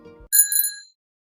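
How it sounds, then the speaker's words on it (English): A small bell, a bicycle-style bell, gives a single bright metallic ring with a clear ringing tone that decays quickly into silence, after a brief low sound just before it. "that rather large bell brings us neatly to a very small bell and our next clip"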